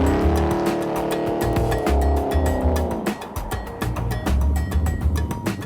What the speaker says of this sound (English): Quick trip to the supermarket in a 9-second 434 cubic inch Mercedes.